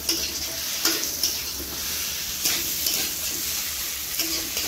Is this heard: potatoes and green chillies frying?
yes